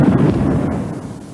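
Artillery shelling pounds Sarajevo during the 1992 bombardment, a dense, rumbling barrage of explosions that rolls on continuously for the whole moment, loud and booming with no gap between blasts.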